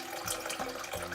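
Water from a tap runs steadily into a bowl sitting on kitchen scales, a soft, close trickle with slight splashing changes.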